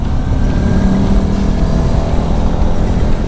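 A Rusi Flash 150 carbureted motorcycle engine holds a steady, loud drone while riding in third gear, with a constant low hum and buzzing vibration and no breaks.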